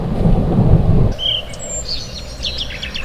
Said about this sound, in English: literally the whole boat shook with a massive clap of thunder